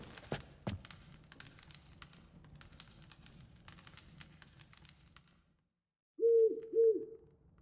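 An owl named Poppy in the video game The Witcher 3 gives two soft low hoots near the end, following a quiet stretch of faint ambient rustling and a couple of brief knocks.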